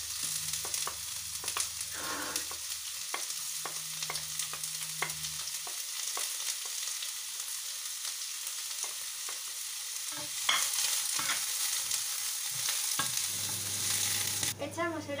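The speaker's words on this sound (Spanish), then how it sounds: "Freímos la cebolla con un par de cucharadas de aceite." Onion fries in a couple of spoons of oil with a steady, dense sizzle throughout, stirred now and then with light scraping clicks, close and continuous with no talking.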